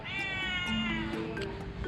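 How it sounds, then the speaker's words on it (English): A house cat lets out one long, drawn-out, wavering meow right up close, loud and clear against a faint, steady background hum. "You're a very meowy cat."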